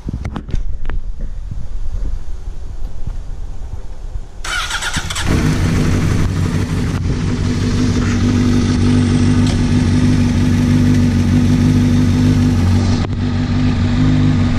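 A Honda CBR 600 RR with a newly fitted clutch cable cranks and fires up after a few seconds of handling noise, then settles into a loud, steady close idle that runs to the end.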